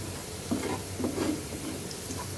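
Garlic and kalai lentils frying in a pan while being stirred, a soft steady sizzle with a few brief scraping stir strokes, close and fairly quiet.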